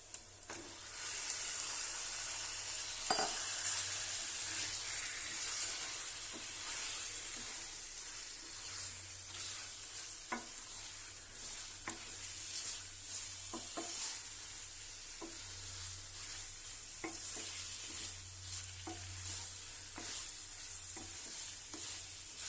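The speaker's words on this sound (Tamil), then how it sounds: "இப்போ இந்த ஸ்டேஜில் நம்ம வந்து 1 kg சிக்கன் எடுத்துருக்கோம், அந்த சிக்கனை போடலாம்." Chicken pieces frying with tomatoes and masala for Bangalore-style donne biryani, a steady close sizzle with stirring scrapes and occasional clinks, continuous throughout without speech.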